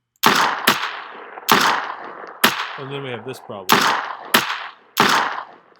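Video game gunshots firing during weapon switching in a zombie shooter, eight sharp loud bangs in an uneven rhythm, each with a short decaying tail, while someone speaks briefly between the shots.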